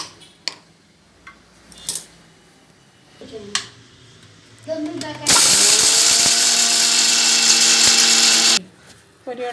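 Mixer grinder pulverising roasted chickpeas, a few light knocks and clinks of the jar first, then a loud, steady whirring grind for about three seconds that cuts off abruptly.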